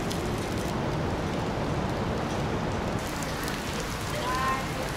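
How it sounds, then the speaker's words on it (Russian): Heavy night rain pours in Kuala Lumpur, a dense steady roar of drops on surfaces, loud and unbroken for the whole stretch. "охранник сказал, что дождь вряд ли прекратится, он может идти и до завтра"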